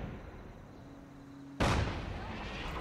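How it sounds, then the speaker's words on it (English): A loud in-game explosion from Fallout 4 bursts in suddenly partway through, with a sharp broadband boom that decays into a lingering rumble over quiet ambient game sound. "enjoying the explosions and consistent kaboodles"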